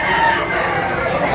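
Roosters at a busy outdoor chicken market behind a mall in Lipa City, Batangas, crowing in a continuous loud din, with crowd noise and faint voices mixed in.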